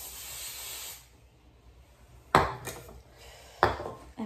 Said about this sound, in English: And I'm gonna get my hairspray.